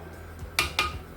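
A spoon stirs rice and moong dal for reesha haleem in a cooking pot, giving two quick, bright metallic clinks against the pot over soft scraping, close and without speech.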